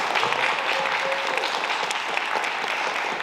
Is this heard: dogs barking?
no